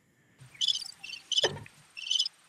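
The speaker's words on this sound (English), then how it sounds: "Hit the crickets, Jesse." Cricket chirping sound effect dropped into a conversation, three short bright bursts of chirps with a brief thump between them, close and clear against near silence.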